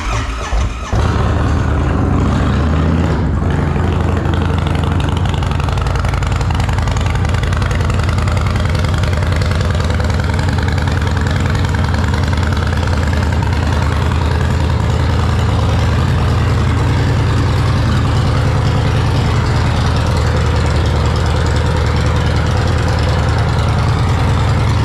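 A 2023 Indian Chief Dark Horse motorcycle with a stage 2 setup idles loud and steady at close range, a deep continuous rumble with a brief blip near the start, no talking.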